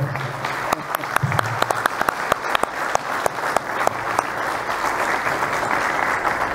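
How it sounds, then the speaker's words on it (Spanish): An audience at a book presentation breaks into applause, steady clapping that fills the room and carries on throughout, with a brief voice audible near the start. "Un aplauso para ella, por favor."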